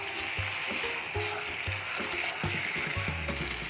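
Young jackfruit sautéing in a pan with ground coriander, cumin and turmeric, a soft low sizzle with repeated stirring scrapes of a spoon, fairly faint.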